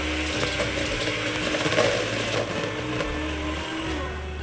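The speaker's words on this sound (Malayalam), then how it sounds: "നമ്മൾ കേക്കിന് ബീറ്റ് ചെയ്യുന്ന പോലെ ബീറ്റ് ചെയ്യുന്നുണ്ടാക്കാം." Electric hand beater whipping cream with chocolate syrup mixed in, a steady mechanical whirring and rattling motor that runs unbroken with small shifts in load, no voices.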